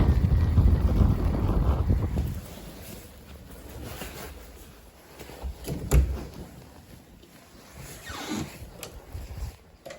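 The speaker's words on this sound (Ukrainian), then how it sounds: "О, вітер який." Strong wind gusts buffet the microphone with a steady roar that swells and fades, loud at first and easing off.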